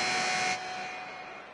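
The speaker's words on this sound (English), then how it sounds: "No good, trying to beat the buzzer." An end-of-half buzzer in a PS4 basketball video game blares loud and steady, then drops to a quieter sustained tone that fades out, with no voices over it.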